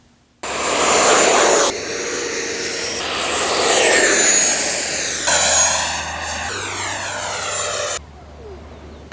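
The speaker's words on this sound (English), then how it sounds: "This is the XFly 80mm T-7A Red Hawk from Banana Hobby." An XFly T-7A Red Hawk 80mm EDF model jet flies past with a loud whooshing whine that rises and falls as it passes, its pitch sweeping up and down before cutting off abruptly.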